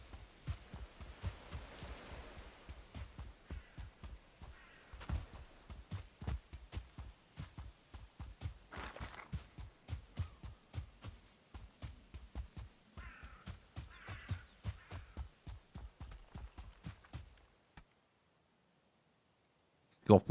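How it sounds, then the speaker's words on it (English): Crows cawing in the Valheim video game, a rapid run of repeated clicky caws that continues steadily for most of the stretch, then stops into near silence. "Right, I hear crows,"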